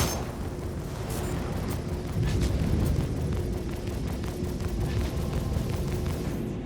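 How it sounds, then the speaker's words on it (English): A missile sound stuck in a loop in the video game Star Citizen, a continuous roaring, rumbling drone that holds steady at close range with faint crackles on top. "Hate it when the missile sound gets stuck like that"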